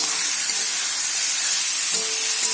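Elephant foot yam stems hit onions softened with salt in hot oil, producing a loud, continuous, close hiss of sizzling and steam with a brief clink near the end.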